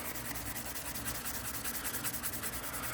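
A knife blade is hand-sanded with a 2,000 grit pad, giving a soft, continuous rhythmic rubbing and scraping heard close up, with no talk.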